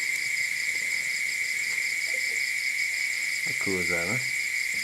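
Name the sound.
loud bugs chirping outside a workshop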